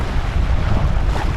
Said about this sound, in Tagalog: Ngayon oh, napakalaki na ng alon.